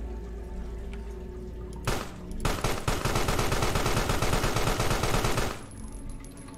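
Rapid automatic gunfire in the sci-fi horror game Carrion bursts in loud and sustained, a dense rattling volley lasting several seconds after a couple of lead-in shots, then cutting off into background hum.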